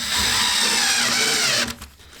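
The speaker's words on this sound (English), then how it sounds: "we're gonna put one of these small screws right in the center of the hole" A power drill whirs steadily for under two seconds, driving a small screw into a metal bracket on an RTA kitchen cabinet panel, close and loud, then stops abruptly.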